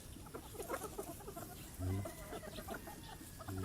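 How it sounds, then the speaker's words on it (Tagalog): Young gamecock stag on a farm clucking in short repeated bursts, fairly close, with other fowl and faint background farm noise around it. "Pwede ko na i-cord itong stag na ito, sariwa na siya eh."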